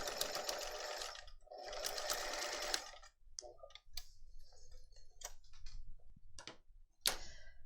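A sewing machine stitches a messenger bag in two sustained bursts, then stops. Short ticking and clicking sounds from the machine follow, and a final quick burst comes near the end, all close and fairly quiet.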